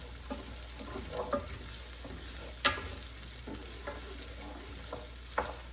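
Coarsely chopped onions fry in a pan, giving a quiet continuous sizzle with occasional clinks and scrapes as they are stirred, and no voices.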